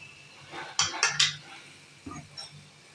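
Chapati noodles being tossed with ground pepper in a pan, heard as a short burst of three quick utensil scrapes and clinks against the pan, then two softer knocks, close and without voices.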